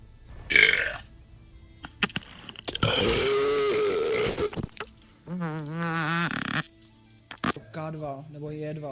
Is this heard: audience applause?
no